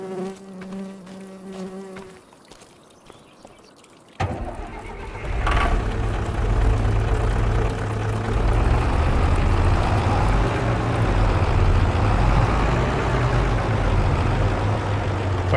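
A tractor engine in the farming game Farming Simulator 25 kicks in after a few quiet seconds, then drones steadily and loudly with a low rumble for the rest of the stretch.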